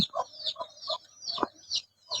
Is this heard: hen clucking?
yes